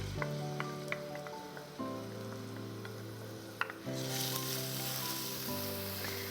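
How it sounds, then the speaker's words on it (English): Garlic sizzles and fries in hot olive oil in a warm pan for pasta aglio e olio, a steady close crackling hiss with occasional stirring clinks and a faint tonal hum underneath. "since my pan is already nice and warm, so my oil's hot, as soon as it hits it, we're gonna get our garlic in"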